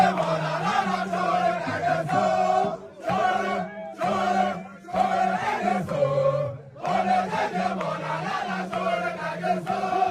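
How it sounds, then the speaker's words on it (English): Large crowd at a street protest chanting and singing solidarity songs in unison, loud and sustained with rhythmic call-like phrases, brief pauses between lines, and many voices blending together close by. "the crowd as they sang songs of solidarity with Sowere's"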